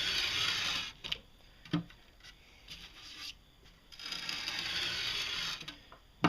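A chisel blade set at a 25-degree bevel is pulled backward across 150 grit sharpening abrasive in a series of gritty, scraping strokes, broken by short pauses and an occasional light knock.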